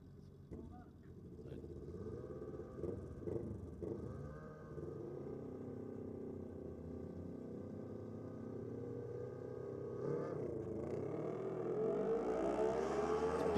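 A Suzuki GSX-R1000 and a Kawasaki Ninja drag racing motorcycle at Sydney Dragway hum faintly in the distance under a commentator's voice. Their engine drone climbs and grows louder toward the end.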